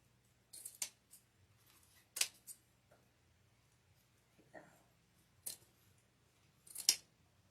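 Scissors cut through deco mesh in about five separate crisp, snipping bursts spread unevenly across a quiet room, each close and fairly sharp.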